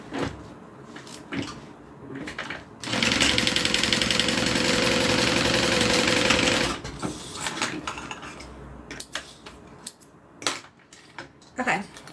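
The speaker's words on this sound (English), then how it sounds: "I'm going to top stitch right along that top seam, and that allows it to lay nice and flat" A sewing machine topstitches along a seam, a close, steady mechanical whir for a few seconds between quieter stretches of handling noise and small clicks.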